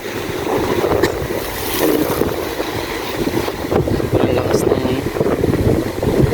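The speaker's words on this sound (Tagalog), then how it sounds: "Sobrang lakas ng alon." Powerful waves crash and splash against the seawall of Masinloc Baywalk in a continuous loud roar mixed with gusting wind rumble on the microphone, while people talk excitedly nearby.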